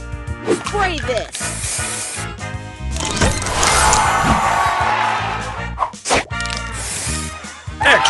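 A spray power-up fires in the Match Masters puzzle game, a long hissing whoosh swelling in the middle, surrounded by chimes and effects while an excited voice talks over it.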